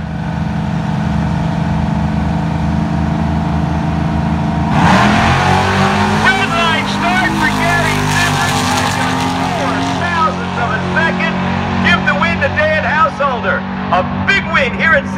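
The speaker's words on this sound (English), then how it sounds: "Hemi car leaving first." An old-school Hemi-powered four-door wagon launches down the Cecil County Dragway; a steady idle abruptly erupts into a loud, roaring engine surge that stays strong and then gradually eases, while an announcer talks over it throughout.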